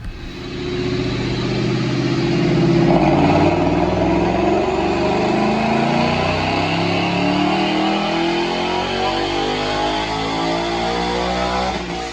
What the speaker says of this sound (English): Check out this dyno pull.